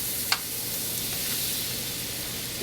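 Butter sizzles in a pan while lobster Américaine is being cooked, a steady soft hiss with one brief crackle near the start.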